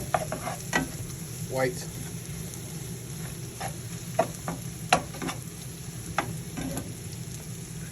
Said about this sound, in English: I'm just cooking the tomato paste up.